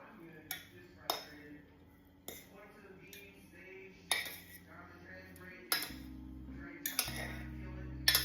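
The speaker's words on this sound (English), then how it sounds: "slowly fluff up our millet by raking it from the top" A fork raking through cooked millet in a pot, giving a series of sharp metallic clinks and scrapes at irregular intervals, close and fairly quiet, with a low hum beneath.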